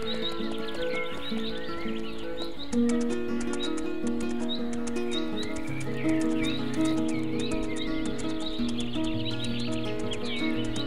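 In the horse-riding video game Mein Pferd, a horse neighs and its hooves clip-clop over a steady bed of gentle background music and chirping birds.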